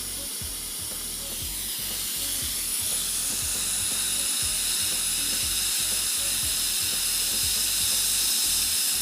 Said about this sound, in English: we use compressed air to clean this area